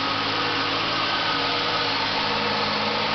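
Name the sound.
Ford Crown Victoria 4.6 liter V8 engine idling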